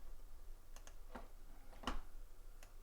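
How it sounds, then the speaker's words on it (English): A few quiet, scattered keypresses on a computer keyboard, a Shift-and-6 combination among them, with one slightly firmer tap near the middle, close and alone with no talking. "I'm going to go ahead and hold down Shift and type 6."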